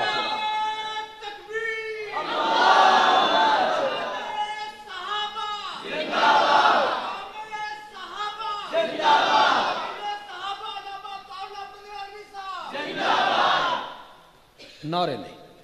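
A large crowd at a religious sermon chants slogans in loud, rhythmic bursts of massed voices, rising and falling in about five waves with short gaps between them.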